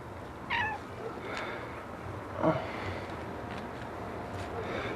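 A cat meows faintly a couple of times in a quiet room, with soft indistinct voices and low background noise around it.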